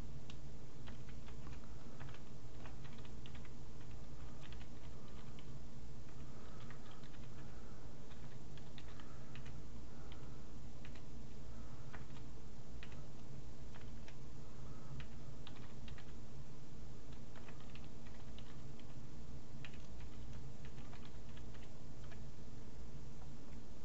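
Steady, rapid clicking of a computer keyboard as C++ code is typed, close and fairly quiet, with irregular bursts of keystrokes and no talking.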